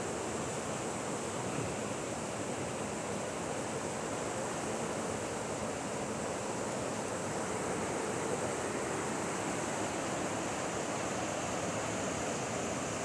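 Steady broadband rush of river water flowing after a night of heavy rain, continuous and even throughout with no voices.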